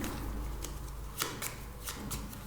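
Tarot cards shuffled and drawn by hand, a run of crisp riffling flicks and papery slaps at close range, with a few sharper snaps standing out and no talking.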